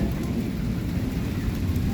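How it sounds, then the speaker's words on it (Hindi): Steady rain pattering down at the start of a storm, a dense even hiss of drops with low rumbling underneath, continuous and fairly loud with no talk. "ये देखो दोस्तों, बारिश होने लगी है"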